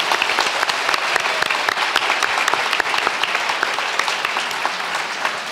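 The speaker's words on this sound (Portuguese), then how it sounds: "Quero pedir uma salva de palmas." Audience applause at a school education event, dense sustained clapping from a crowd that fills the room evenly without pause for several seconds.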